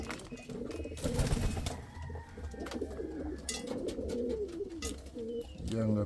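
Indian Fantail pigeons coo repeatedly in a loft, soft throaty rolling calls overlapping one another with occasional flutters and rustles nearby.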